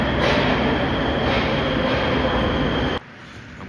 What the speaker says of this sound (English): Just got on the metro